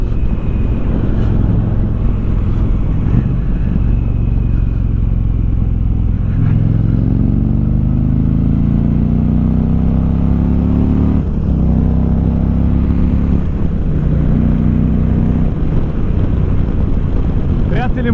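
Exhaust of an Indian Challenger 2021 motorcycle in its loudest sound mode, a deep, loud, close rumble with repeated rev swells rising in pitch, heard alone.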